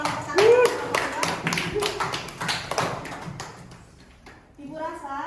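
A classroom group claps and taps in applause for student groups, a burst of patters that fades midway, mixed with voices talking over it.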